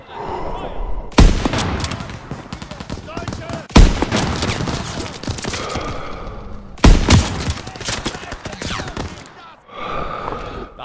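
Bursts of gunfire in the World War II shooter Call of Duty WWII, with three loud volleys and sustained automatic fire in between, set in a battle during the Ardennes offensive, with speech mixed in.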